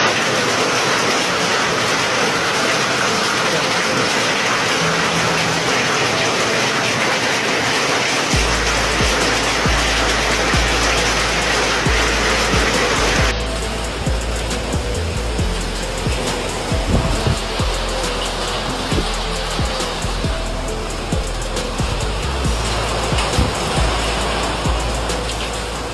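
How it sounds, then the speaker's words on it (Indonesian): A violent hailstorm in Kediri, East Java, hammers down with heavy hail. The roar is loud, dense and continuous, shifting partway through, with no talking heard. "Hujan es bolong, masya Allah."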